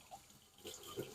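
Warm tap water runs into a sink to rinse a canister filter sponge, a soft, faint trickle with a few louder splashes.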